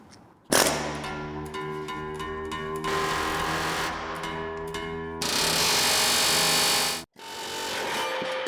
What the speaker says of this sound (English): That way we can start chipping the head off, and then we'll just punch the rest of the rivet through